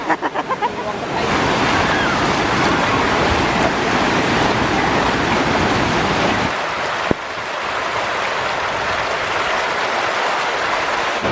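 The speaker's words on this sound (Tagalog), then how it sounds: "Ang lakas ng tubig." Strong river water rushes loudly and steadily in a countryside river in Korea, a dense continuous roar close to the microphone with a few brief knocks near the start and a slight dip midway.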